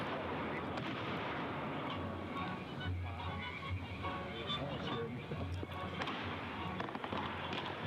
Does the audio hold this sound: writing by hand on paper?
no